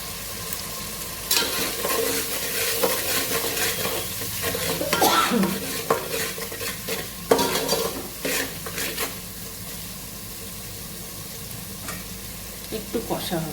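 Turmeric and spices frying and being stirred in a pan for khichuri, a steady close sizzle with repeated scraping strokes of a spoon against the pan, no talk.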